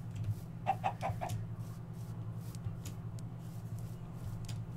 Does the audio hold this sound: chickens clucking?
yes